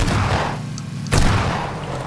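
In the battle-royale game PUBG, two heavy shotgun blasts boom close by, each a sharp broadband crack with a rumbling tail, about a second apart.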